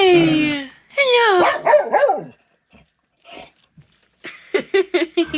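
Several dogs barking at a nature and science museum, a long whine followed by a run of loud close barks, a pause of quiet, then a fresh burst of sharp yips and barks.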